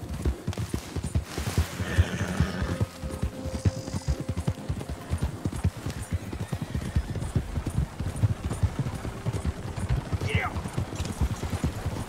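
Horse hooves clip-clop steadily and close in a Red Dead Redemption 2 game scene, a continuous trotting rhythm filling the whole stretch, with a brief faint whinny-like sound near the end.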